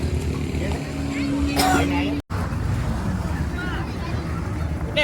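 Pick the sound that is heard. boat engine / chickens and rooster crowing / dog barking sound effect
boat engine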